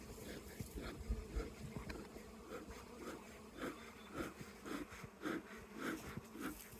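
Honey bees buzzing in an open top bar hive, a constant nearby drone with pulsing swells and soft rhythmic puffs as smoke is blown, no speech heard.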